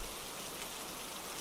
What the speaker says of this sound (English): The rain isn't gonna clear up anytime soon,